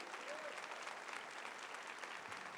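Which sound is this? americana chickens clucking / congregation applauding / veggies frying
congregation applauding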